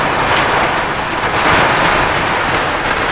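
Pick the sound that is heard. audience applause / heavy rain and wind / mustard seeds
heavy rain and wind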